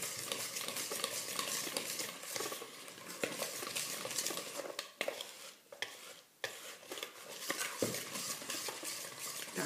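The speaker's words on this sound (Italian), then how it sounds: "Tanto io mescolo." Dorayaki batter being mixed in a bowl with a utensil, giving rapid, continuous scraping and clinking strokes, close up, with brief pauses and no one talking.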